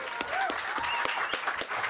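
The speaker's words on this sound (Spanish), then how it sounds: "Un aplauso. Un aplauso." Audience applause at a Campus Party tech event presentation, a steady wash of many hands clapping close and loud, with a few brief whistles over the crowd.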